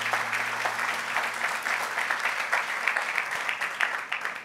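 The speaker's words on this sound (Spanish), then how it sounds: "De un aplauso bien fuerte a nuestro Dios." Loud, sustained applause from a church congregation during a sermon, a dense continuous patter of many hands clapping with no voices over it.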